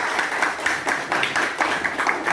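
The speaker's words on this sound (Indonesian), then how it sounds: "Tepuk tangan untuk kita semua" Applause from an audience at an Indonesian teacher-training group presentation, a steady run of fairly faint clapping with irregular bursts, no talk over it.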